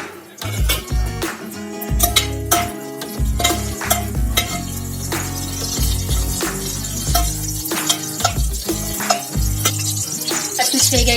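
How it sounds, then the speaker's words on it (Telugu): Green chillies sizzle in hot oil with whole garam masala in a pressure cooker for mutton biryani, a steady close frying hiss broken by repeated stirring scrapes and clatters throughout. "ఇప్పుడు డైరెక్ట్ పచ్చిమిర్చి వేసుకుంటున్నాం, 2 చీలికలు. తర్వాత కొద్దిగా వేగనిద్దాం."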